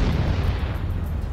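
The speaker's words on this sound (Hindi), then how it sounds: "मोर्टर से हमले के बाद वीडियो में एक जगह पर जोरदार धमाका होता दिखाई दिया।" Mortar shell explosion from a 2S4 Tyulpan heavy mortar in a combat strike, heard as a loud, sustained low rumbling roar with no distinct onset, filling the whole moment without voices.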